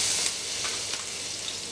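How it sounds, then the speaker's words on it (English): Minced ginger, garlic and green chilies sautéing in a tablespoon of ghee in a kadai give a soft, steady sizzling hiss, fairly faint and continuous over a short stretch. "add 1 tablespoon of ghee, minced ginger and garlic,"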